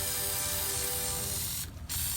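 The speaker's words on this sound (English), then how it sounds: "Now I'm going to spray my Rust-Oleum glitter gold on top of the glam sign." Rust-Oleum glitter gold spray paint hisses steadily from a can onto a sign, a continuous close, loud spray with a brief break near the end.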